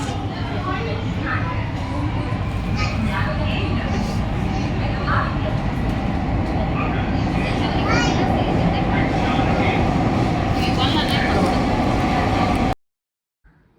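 Rumble and steady roar inside an underground metro train during the ride, carrying on at an even level with scattered chatter and children's voices mixed in, then cutting out abruptly near the end.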